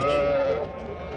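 Sheep and lambs bleat at a busy livestock market with cattle and calves also for sale, a loud sustained bleat up close in the first half as people talk over the crowd noise.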